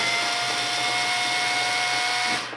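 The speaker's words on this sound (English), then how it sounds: "You can see how the drill is huge for taking stuff apart." A power drill whirs continuously while taking apart an Axial AX10 RC crawler, a steady close, high-pitched motor whine that holds evenly before winding down at the end.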